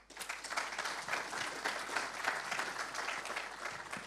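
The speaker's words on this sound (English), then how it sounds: "give the panelists a quick round of applause" A seated conference audience gives panelists a round of applause, dense even clapping that holds steady and fairly close for a few seconds with no talk over it.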